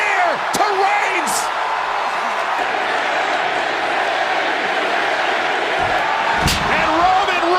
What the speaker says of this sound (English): Roman's gonna take Sami Zayn out. Not a moment too soon. With a spear to Reigns